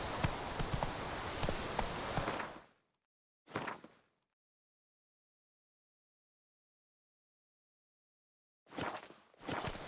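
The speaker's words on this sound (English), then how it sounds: "Run, Roach." Horse hooves clip-clop in The Witcher 3 video game, a steady trotting rhythm that runs for several seconds, stops abruptly, returns for a short burst, then falls silent before resuming near the end.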